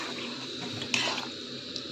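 Water is poured into a cooking pan in a home kitchen, a faint, brief liquid splash and trickle that is quiet and close.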